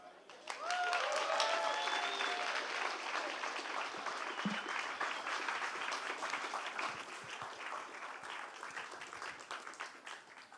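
A large outdoor crowd at a Hillsborough remembrance event cheers and applauds loudly and steadily for the victims' families, with dense clapping and whoops that swell early and then hold at a strong level, and a few voices audible within the crowd.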